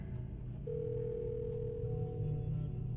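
A steady telephone dial tone holds for about two seconds over a low room hum as a call is placed, with no voices.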